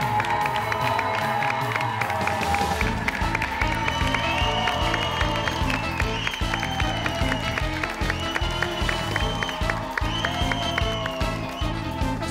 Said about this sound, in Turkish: Alkışlarınızla Sıla ile beraber Hakan Yağlı.